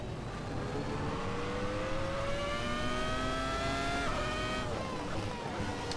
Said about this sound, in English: You can hear the sounds from the transmission as we're going up and down through the gears.